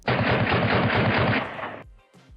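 An MP5 submachine gun firing a rapid, loud, close-range burst that dumps the magazine for nearly two seconds before cutting off, followed by a short fading tail and a faint click.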